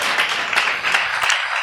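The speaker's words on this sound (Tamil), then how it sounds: "கைத்தட்டி ஆண்டவரை நன்றி சொல்லுங்க" A church congregation claps together in a dense, continuous burst of applause that lasts only a moment, loud and close with no voices over it.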